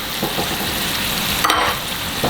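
Cireng, chewy tapioca dough snacks, fry in hot oil in a steady, dense sizzle with faint stirring clatter and a brief louder crackle partway through, heard without talk.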